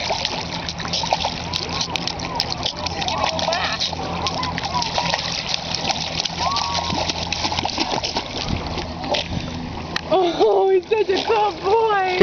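A dog swims and paddles through water, with steady close splashing and dripping throughout while people talk nearby and encourage it.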